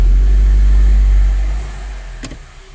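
A 2011 Audi A3 2.0T engine with a cylinder 3 misfire revs hard during a brake torque test, giving a loud, deep, steady roar that eases off and fades near the end.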